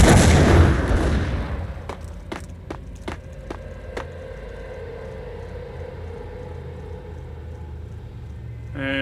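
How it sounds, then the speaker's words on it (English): A loud blast opens the scene in Max Payne, a grenade explosion giving way to a run of sharp gunshots and a steady rumbling tail. "now wait for the guy to throw his grenades"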